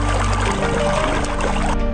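River water bubbling up from one spot in the middle of a river in Gangwon Province, a steady gurgling, churning flow of water sounding close and continuous, with no talk over it.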